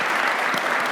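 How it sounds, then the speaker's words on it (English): An audience applauds panelists at the end of a healthcare forum panel, a dense, loud, steady burst of many hands clapping at once. "Please, let's give them a big round of applause."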